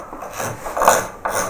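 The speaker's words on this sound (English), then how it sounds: "Then I will use scrapers." A hand scraper draws along a carved wooden sculpture, lifting thin shavings in a few close, short raspy strokes, one after another, with no talking.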